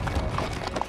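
Horses' hooves clip-clop on a morning trail ride through Griffith Park in Los Angeles, a quick run of close, uneven hoof hits over outdoor noise.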